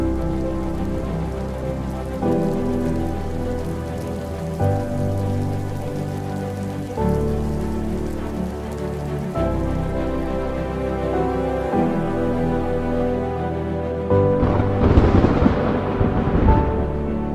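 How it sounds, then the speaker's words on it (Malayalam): Heavy rain pours down steadily during a storm in Oman and the UAE, a dense, continuous roar of drops on surfaces with a low rumble throughout and a sudden burst of louder splashing near the end. "ഒമാനിലും UAEയിലുമൊക്കെ അതിശക്തമായ മഴയാണ് ഉണ്ടായത്."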